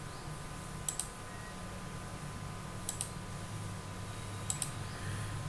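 Computer mouse clicking while a mat footing slab is drawn in structural design software: three quick double clicks, spaced about two seconds apart, faint over a steady low room hum.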